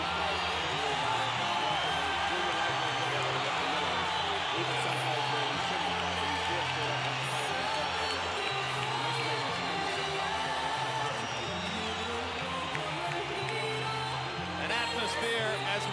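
Dense, steady roar of a boxing arena crowd at Mayweather vs De La Hoya, a broad wash of cheering and shouting that holds loud for the whole stretch, with a voice talking over it throughout.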